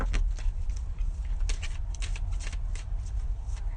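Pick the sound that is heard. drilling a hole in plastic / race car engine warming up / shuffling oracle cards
shuffling oracle cards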